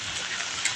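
Rain falls during a long drive in Rajkot, a soft, even patter of drops on a surface, steady and fairly faint throughout with no talking.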